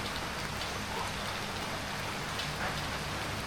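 Gentle drizzle falls steadily on a village, an even, close, uninterrupted hiss of light rain with no voices.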